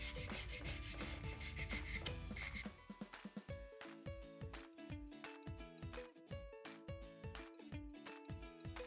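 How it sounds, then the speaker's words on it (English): Wooden popsicle sticks being hand-sanded for a rustic craft box, starting with a dense continuous rubbing hiss that gives way to a close, rhythmic series of short scraping strokes. "I'm gonna go ahead and sand these real quick"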